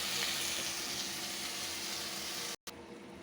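Tomatoes sautéing in a pan make a steady close-up sizzle with a faint crackle that holds evenly for about three seconds and then stops with a brief dropout.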